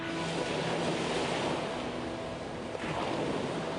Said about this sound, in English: they submerge one end of the barge.